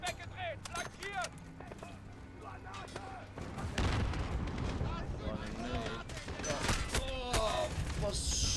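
Gunfire in the 2019 video game Call of Duty: Modern Warfare, a multiplayer match with repeated shots and booming blasts that build into a dense, continuous barrage, mixed with game voices and effects.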